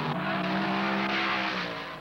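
1970 Trans Am race cars, including a Camaro and a number 9 Javelin, roar past in heavy traffic on a road course, a loud, sustained engine drone with rising revs and a slight fade at the end.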